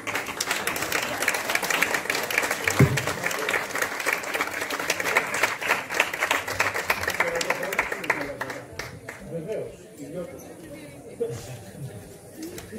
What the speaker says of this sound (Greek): Ένα θερμό χειροκρότημα επίσης και στη Σταυρούλα και στο Ζήσιμο εδώ πέρα